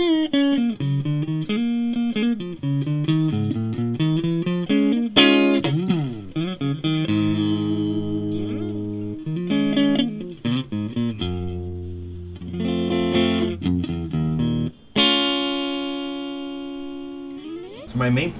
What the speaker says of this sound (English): So there's Dolly Dagger, that sounds kind of like this.